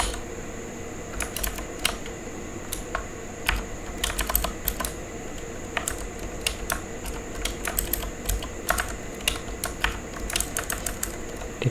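Rapid, uneven clatter of keys on a computer keyboard, typed continuously with sharp clicks and occasional heavier strokes over a steady background hum.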